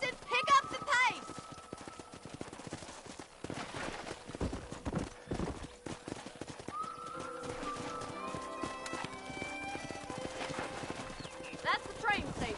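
Horses clip-clop at a trot in a cowboy video game, with hooves beating steadily and a neigh, while characters talk over the hoofbeats and background music.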